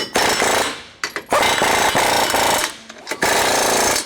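An impact wrench hammers skid plate bolts tight on a 2020 Ram 1500 with a 19mm socket, in several loud close rattling bursts separated by brief gaps.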